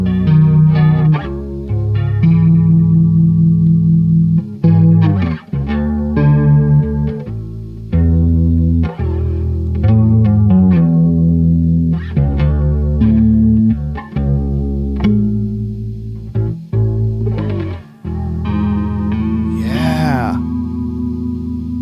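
A P bass runs through a Walrus Audio Julia chorus pedal with every knob at noon, giving a warm, shimmering, wavering tone as it plays a steady, loud, close line of low notes.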